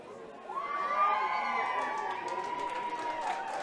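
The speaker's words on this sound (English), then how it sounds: "a round of applause going up for the Wexford panel" A crowd in the stands at a Leinster Ladies Minor B Championship final between Laois and Wexford applauds and cheers the Wexford panel, a sustained roar with whoops and shouts that stays steady throughout.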